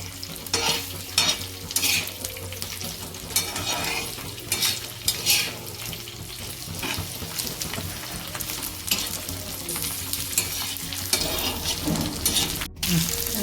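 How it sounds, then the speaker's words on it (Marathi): Garlic and green chillies sautéing in a pan for a traditional chilli thecha, with constant close sizzling and repeated scraping stirs that give a rough, pulsing rhythm throughout. "आता मी याच्यामध्ये लसूण टाकणार आहे लसूण थोडासा असा मऊ द्यायचा परतून"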